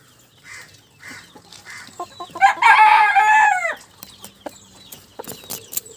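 A rooster crows loudly at a backyard chicken coop, with scattered clucks from the hens before and after the crow, close by.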